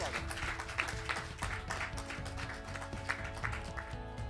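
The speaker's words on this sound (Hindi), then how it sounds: "जोरदार ताली के साथ उनका स्वागत" Audience applause welcoming a poet on stage at a Hindi kavi sammelan, a dense, steady clatter of many hands clapping throughout, with a few sharper claps standing out.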